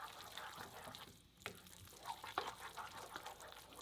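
A wooden spoon stirs a buttery sauce in a pan, a steady soft scraping and gentle sizzle running through the whole stretch, with a few brief louder knocks and slurps near the middle.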